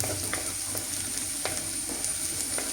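Ginger and garlic frying in a pan for a Kerala-style sardine curry, stirred steadily: a continuous close sizzle with a light scrape now and then and no talk.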